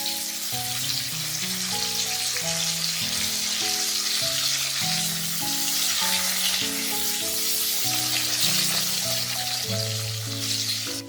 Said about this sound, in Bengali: অল্প পরিমাণে হলুদ, একটু জল দিয়ে দিলাম মশলা কষানোর জন্য, নাড়ি ধরে যাবে মশলাটা।